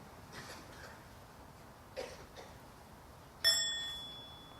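A mindfulness bell gets a soft half sound, one clear metallic ring that blooms suddenly and fades slowly in a quiet room, after a few faint earlier taps.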